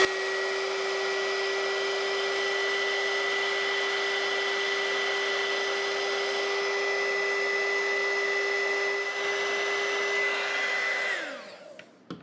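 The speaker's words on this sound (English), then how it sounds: "it's time to take our heat gun, and we're just going to tighten that heat shrink wrap all the way down" A heat gun blows steadily and loudly for about eleven seconds as it shrinks heat-shrink wrap onto a feathered treble hook, with a constant whirring tone that then winds down and cuts off.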